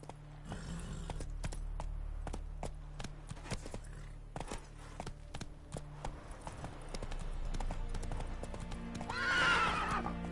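Geralt's horse Roach in The Witcher 3 video game, hooves clip-clopping in a steady trotting rhythm, then a loud whinny near the end, fairly close over a quiet background.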